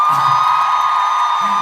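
Concert audience at an encore applauding and cheering, a steady dense roar of claps and whoops filling the space, with a low voice briefly audible underneath.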